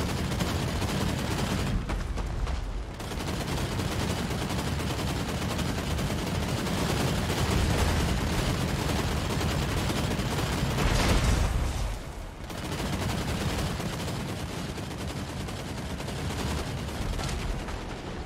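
Skaven gunfire in the strategy video game Total War: Warhammer 3, sustained rattling volleys of many shots crackling continuously for a long stretch, with brief lulls, loud and close, without speech.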